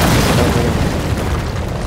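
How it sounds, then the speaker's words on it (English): Airstrike explosion in Gears of War 4: a loud, sustained, rumbling blast filling the whole clip with dense broadband noise that slowly thins out, with no talking. "I'm requesting an airstrike."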